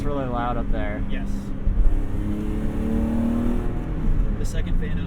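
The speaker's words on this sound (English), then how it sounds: "I almost wish the exhaust was a little bit quieter so I can enjoy it" A BMW E30 with a swapped S52 engine roars loudly from inside the cabin as its exhaust revs and pulls through the gears, a steady, droning engine note with voices talking over it.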